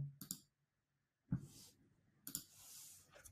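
Mouse clicks on a Save button in a school reading app, heard as a few sharp, close clicks separated by quiet gaps, with faint background rustle.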